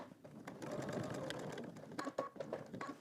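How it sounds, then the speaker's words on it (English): A sewing machine stitches fabric along an existing line toward a marked dot, running close and steady as a continuous whirring before breaking into a few short stop-start bursts near the end. "I'm going to stitch down to this dot, pivot."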